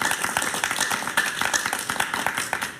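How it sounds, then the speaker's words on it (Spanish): Studio audience applause on a late-night Spanish-language talk show, a steady patter of many hands clapping at moderate loudness for a few seconds with no talk over it. "un aplauso para que se entienda"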